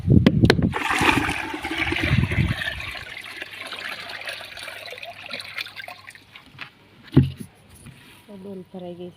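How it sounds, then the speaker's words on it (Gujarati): Water runs from a household tap into a bucket, a steady rushing hiss with heavier thuds and splashes at the start, while a person talks over parts of it. "તો એક ડોલ ખાલી છે તો ભરી આવું નળ કરતી."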